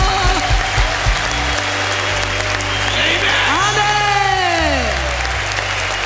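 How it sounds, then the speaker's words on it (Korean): A church congregation applauds at a revival meeting in Saltillo, Mexico, a steady, fairly loud wash of clapping with a voice speaking over it throughout. "Un aplauso para Jesús."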